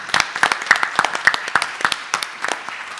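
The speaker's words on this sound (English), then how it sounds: "Let's give him a round of applause" A small audience at a school district board meeting gives a police officer a brief round of applause, a sparse burst of separate claps with distinct gaps between them, moderately loud and without talk.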